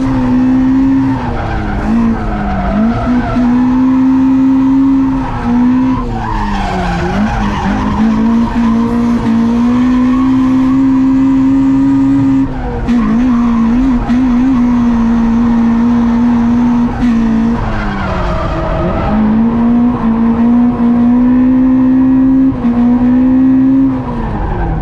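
Toyota AE86 fitted with a tuned ECU drifting hard with handbrake turns, tires squealing in long wavering howls over the revving engine, close and loud with no talk.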